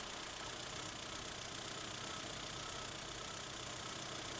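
An MG Rover car engine idles steadily with MEMS engine management, a low, even hum that holds at a constant level throughout, with no voices.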